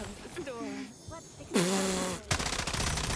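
Video game gunfire bursts out in a loud blast and then a rapid stutter of automatic shots, while a person talks excitedly over it.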